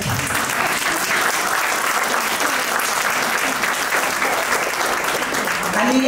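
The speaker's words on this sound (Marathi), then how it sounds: "प्लीज टाळ्या वाजवा सगळ्यांनी." Sustained audience applause at a speech event, a dense and steady wash of clapping hands that holds at full loudness for the whole stretch with no break and no voice rising above it.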